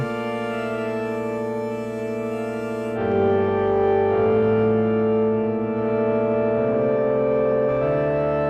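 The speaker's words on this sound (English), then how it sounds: "Overdrive, add a bit of harmonic distortion." A sustained synth chord from the RES-09 plugin, a Roland RS-09 organ and strings emulation, plays with overdrive harmonic distortion, its dense harmonics shifting as the chord changes partway through, steady and full with no talk.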